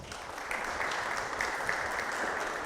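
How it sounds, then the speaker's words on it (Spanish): Audience applause after a presenter is introduced at a tech talk, a short burst of many hands clapping in a dense, steady patter that swells slightly and holds. "Démosle un aplauso, por favor."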